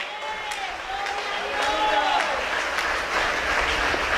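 A church congregation applauds in a continuous, fairly faint patter of many hands, with a voice and some musical tones over it.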